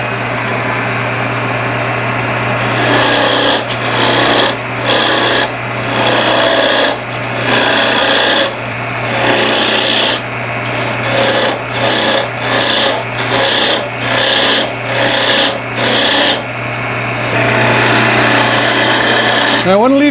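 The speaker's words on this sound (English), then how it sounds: "Now I'm going to switch over to a spindle gouge and just very roughly approximate" A spindle gouge roughly shapes wood spinning on a lathe, a loud, close, rasping scrape that comes in repeated strokes of a second or so over a steady motor hum.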